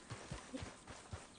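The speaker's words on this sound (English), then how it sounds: "Yeah, my horse ran away." Horse hooves in a video game, a quick clip-clop of four or five soft thuds running off at a steady trot, fairly faint and heard alone.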